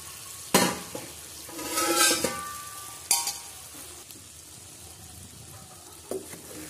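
Large-cut brinjal pieces tip into half-boiled potato masala in a hot pan, landing with a few loud thuds and a rising sizzle, followed by spoon stirring and scraping that fade to a low, steady frying hiss.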